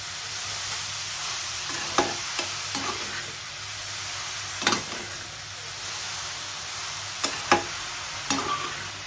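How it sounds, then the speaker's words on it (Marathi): Grated carrots being sautéed in ghee for gajar halwa give a soft, steady sizzle, broken by several sharp scrapes and clicks of a spoon against the pan. "चांगलं सुकेपर्यंत परतवून घेऊया"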